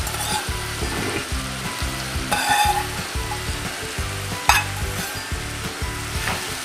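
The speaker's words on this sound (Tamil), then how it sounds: "இப்போ நல்லா இதை மிக்ஸ் பண்ணிவிட்டு" Cauliflower and potato are stirred into a gravy sizzling in a pan, with a steady loud frying hiss and rhythmic scraping and stirring strokes throughout, plus a couple of sharper clinks.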